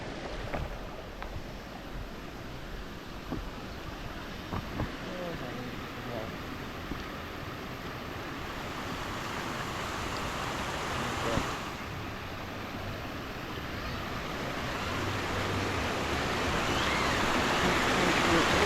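Steady rushing water at Tad Moon waterfall near Vientiane, a broad constant roar that grows gradually louder toward the end, with a few faint knocks and handling noises early on.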